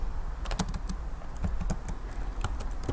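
Steady, close-up clatter of keys being struck on a computer keyboard, irregular taps at a brisk pace with no voices over it.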